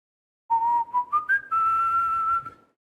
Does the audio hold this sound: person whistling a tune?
yes